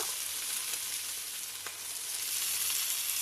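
Chicken curry frying in a pan for chicken rice, a steady, close, even sizzle throughout with faint stirring.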